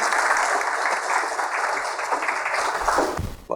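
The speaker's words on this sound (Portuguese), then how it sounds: "Uma salva de palmas." Audience at a conference on small hydropower plants applauding to welcome a speaker: a steady, full round of clapping that tapers off at the end, with a brief low voice just as it fades.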